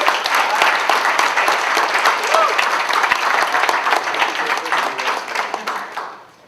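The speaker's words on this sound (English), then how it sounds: "Please give them a round of applause." Sustained applause from an audience at a PRSA Los Angeles chapter membership meeting, steady dense clapping for about six seconds that fades out at the end.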